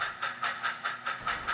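An HO scale model freight train, a mixed freight, runs on a large scratch-built club layout modeled on the Tehachapi Pass route near Bakersfield, giving a steady rhythmic clicking of wheels over rail joints with a hissing wash, fairly faint and without voices.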